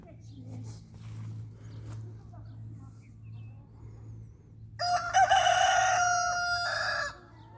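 A rooster crows loudly nearby at a chicken coop in a long, strained call, after a stretch of low hum and faint background sounds.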